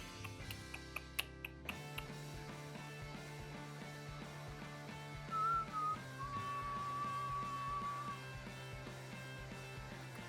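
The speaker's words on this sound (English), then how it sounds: "Do you like that off-tune whistle?" Off-tune human whistling, a faint wavering whistled tune that rises and then holds a long wobbly note, heard alone over a low steady hum with a few ticks near the start.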